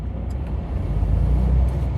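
A Class B vehicle during an air brake check rolls forward up to 5 mph, a low steady engine rumble heard from inside the cab with light clicks above it.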